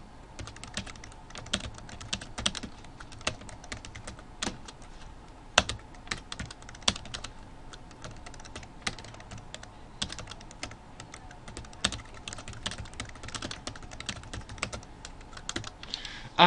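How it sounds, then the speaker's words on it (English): Typing on a computer keyboard: a steady stream of quiet, close key clicks with irregular rhythm and occasional louder taps, no voices. "And I'm going to write something about Trixie"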